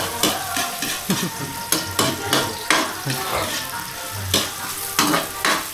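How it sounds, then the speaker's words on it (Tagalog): Pork sautéing in a pan sizzles steadily while a utensil stirs and scrapes it in repeated strokes, close up, with light clinks of metal on the pan. "Habang hinahalo, ginigisa."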